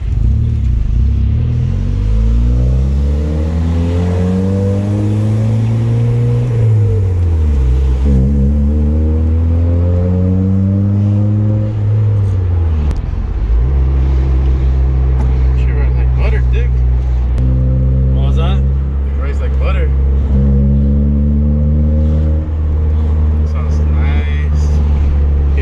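A Honda Civic EK with newly installed coilovers drives and accelerates, its engine note rising and falling loudly through several gear pulls under continuous talk from people inside the car.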